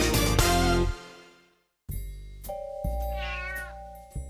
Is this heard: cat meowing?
yes